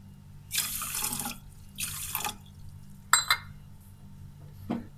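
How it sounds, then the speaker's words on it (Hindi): Water poured from a glass into a cooking pot of sugar for gulab jamun syrup, heard as two separate splashing pours in a quiet kitchen, followed by a brief clink and a soft knock. "यहाँ पे मैं 2 गिलास पानी इसके अंदर हम डालेंगे"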